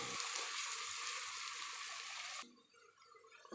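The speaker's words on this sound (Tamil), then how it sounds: "வெங்காயம் கலர் சேஞ்ச் ஆகிற அளவுக்கு நல்லா வதக்கிக்கலாம்" Onions sautéing with salt in a pan for Ambur-style chicken biryani, a bright steady sizzling hiss that cuts off abruptly partway through, leaving a quiet room with faint clinks.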